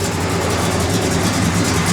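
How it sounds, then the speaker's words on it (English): Blower motor running inside a 1972 Chevrolet Monte Carlo, a loud steady whirring hum under an even engine drone with no talk. "Blower motor works."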